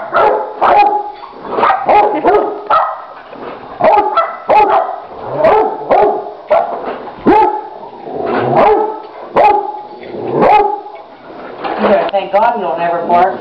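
A Rottweiler barks repeatedly at a sweeper, a steady run of loud, close woofs with a voice talking over and between them and a whiny yip near the end.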